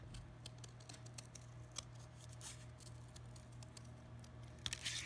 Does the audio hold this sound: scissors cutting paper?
yes